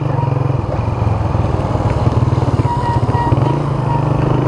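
A Honda 125 Amico motorcycle rides at speed, its small engine giving a continuous loud, buzzing, slightly clattery drone under steady wind rush, with no talk.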